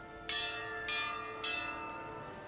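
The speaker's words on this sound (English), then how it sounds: "we are going to ring this bell and then watch how chaos unleashes" A large bell struck three times at steady intervals of about half a second in Pillars of Eternity 2: Deadfire, each strike ringing with a bright metallic clang and long humming overtones, loud and alone.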